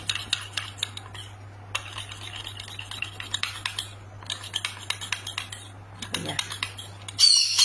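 A spoon mixes homemade coconut oil skin cream in a container, producing quick clusters of light scraping clicks and taps separated by short pauses over a faint low hum.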